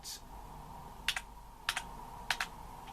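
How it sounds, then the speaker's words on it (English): Cursor keys on a ZX Spectrum keyboard are tapped in three quick double presses, each a pair of soft clicks spaced evenly apart over a quiet background hum. "we have to use the cursor keys on the keyboard here"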